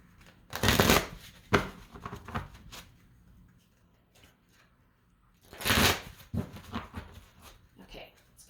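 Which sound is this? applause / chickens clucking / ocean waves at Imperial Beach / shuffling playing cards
shuffling playing cards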